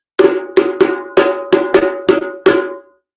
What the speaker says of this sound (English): the lead drummer will play the signal and we'll start